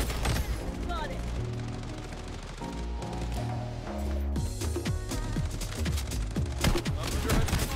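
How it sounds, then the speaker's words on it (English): Heavy automatic gunfire in the shooter game Bloodstrike, a dense, continuous barrage of rapid shots and impacts with layered music and game effects, loud and close, with players talking over it. "I'm under heavy fire."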